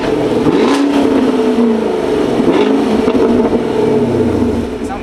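A muscle car's engine revs steadily while it is driven at a car meet, a continuous throaty drone with some rises in pitch, with voices talking faintly underneath.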